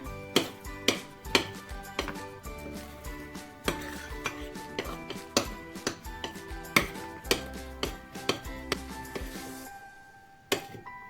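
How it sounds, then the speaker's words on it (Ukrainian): Egg yolks are mixed into a batter in a bowl, producing regular, sharp knocking strokes about twice a second that stop near the end. "додаю жовтки. Все разом перемішую."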